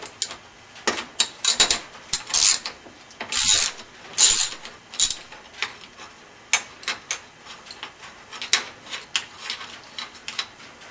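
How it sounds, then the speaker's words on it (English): A 13 mm ratchet works loose the bolts on a BMW F650GS motorcycle, giving rapid bursts of close, crisp pawl clicking in irregular runs, separated by brief pauses and occasional metallic clinks. "I'm going to take a ratchet, and this is a 13 millimeter, and I'm just going to go ahead and remove the bolts."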